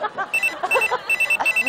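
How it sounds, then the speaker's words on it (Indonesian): An electronic telephone ringtone chirps in short repeated bursts, fairly close and clear, with faint background noise between rings. "Ada telepon."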